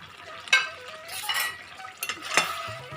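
Ghee and garam masala are stirred in a pan for Bengali jackfruit and potato danla. A spoon scrapes and clinks against the metal in a few quick, close strokes over a soft sizzle.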